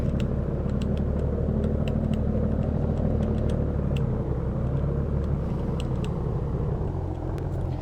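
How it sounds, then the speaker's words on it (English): A large-motor haul truck rumbles at low speed while being driven over to park, a steady deep engine drone with faint clicks on top and no talk. "this is my new truck here. I'm gonna go park it over here"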